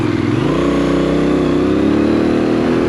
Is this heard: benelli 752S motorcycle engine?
yes